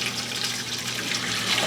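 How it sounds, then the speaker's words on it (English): Hot water runs from a tap into a canning pot, a steady close splashing rush that holds evenly throughout. "all I'm going to do is put some hot water in my canner"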